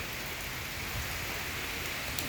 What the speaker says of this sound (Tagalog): Maaga pa lang kanina, hanggang ngayon, ulan na ng ulan.